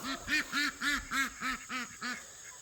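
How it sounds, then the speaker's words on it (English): Ducks quack and honk in a steady run of about eight calls, each a rising-falling nasal note with short gaps between, fairly close and clear over a faint background hiss. "Except for the ducks, of course."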